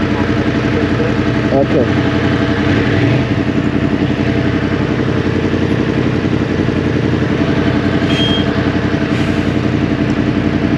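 A 2023 Yamaha MT-10 motorcycle engine runs close and loud on a ride, a steady throbbing hum with a brief spoken word over it.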